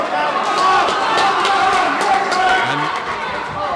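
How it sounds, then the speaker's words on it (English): A Cavan crowd at an All Ireland 40x20 handball men's doubles final cheers and roars loudly and continuously, with a commentator talking over the noise. "The big Cavan crowd now making their voices heard."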